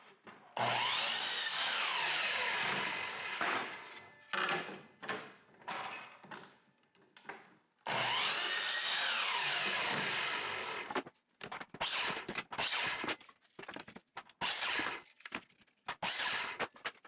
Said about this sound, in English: I square off the ends on my mitre saw for a perfect match on my pattern.